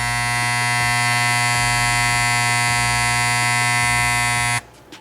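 An Andis T-Outliner hair trimmer runs with a loud, steady electric buzz and strong harmonic hum, close up and alone, before cutting off abruptly near the end.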